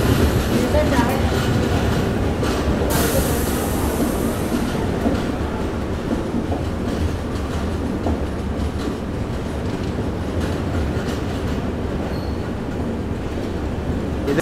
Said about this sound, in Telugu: మన విశాఖ ఎక్స్ప్రెస్ ప్లాట్ఫామ్ 1 మీదుగా చేరుకోవడం జరిగింది